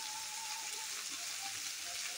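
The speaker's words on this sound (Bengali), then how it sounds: "চারিপাশ থেকে আমি নেড়ে চেড়ে একটু ভেজে নেব।" Cauliflower and fish head fry in a pan of oil, giving a soft, steady hiss and crackle that stays even and fairly quiet throughout, with no talk.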